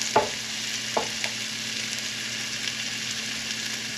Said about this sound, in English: Let's get the onions in there first.